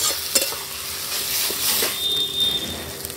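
Spiced mashed potato with fried spice powder and green chillies is stirred and fried in a pan, giving a soft steady sizzle broken by a few scraping knocks of the spoon.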